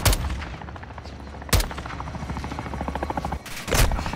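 An air strike in Call of Duty Modern Warfare 2 pounds a building with gunfire: sharp loud blasts open, return mid-way and near the end, with rapid rattling fire and a low rumbling drone in between.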